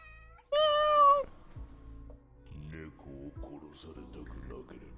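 A cat in the Chainsaw Man anime gives one loud, clear, sustained meow up front, then speech follows.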